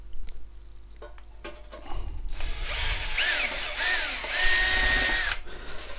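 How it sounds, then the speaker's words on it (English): A handheld power drill whines up loud and close as it bores through pre-drilled holes in a battery box for a Honda CB 500 cafe racer build, preceded by a few faint clicks and short bursts. "I'm just going to drill them through."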